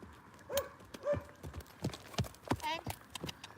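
A mare canters in an arena, her hooves striking in a steady three-beat rhythm close by, with a rider or trainer talking over the hoofbeats.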